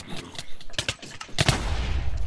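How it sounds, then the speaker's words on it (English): Several sharp blasts and bursts pop off in quick succession during Dwarves vs Zombies gameplay, ending in a denser rumbling burst. "Explosion!"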